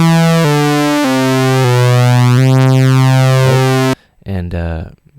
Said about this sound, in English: We can detune the second copy of that oscillator right here.